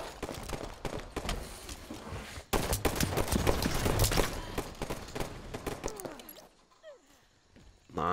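Rapid bursts of team gunfire from a Halo 5 eight-player match crackle in dense, overlapping volleys that swell, then thin out into scattered shots, with a brief voice near the end.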